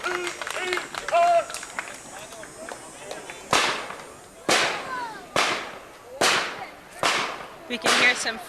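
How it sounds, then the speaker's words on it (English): Gunshots fired by a VFW post color guard at the 1995 Salem Heritage Days parade ring out as a string of sharp, loud cracks at roughly regular intervals, each with a brief echoing tail, above faint crowd noise. "We can hear some fire shots in the background."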